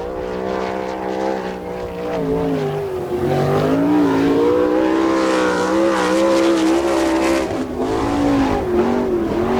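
A sprint car on a qualifying lap at Attica during an All Star Circuit of Champions event wails loudly and steadily, its engine pitch rising and falling as it goes through the turns.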